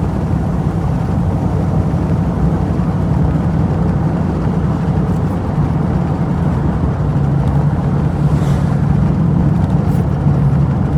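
A V8 car engine drones steadily while cruising along country lanes and through a village 30 zone in the Derbyshire Peak District, a loud, continuous low rumble with no breaks.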